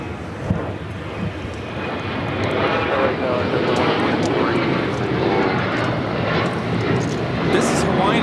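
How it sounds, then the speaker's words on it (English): Hawaiian Airlines Boeing 787-9 Dreamliner jet taking off at LAX. Broadband jet roar builds over the first few seconds, then holds loud and steady, with some wind buffeting on the microphone. "This is Hawaiian Airlines Flight 3, taking off to Honolulu on the 787-9 Dreamliner"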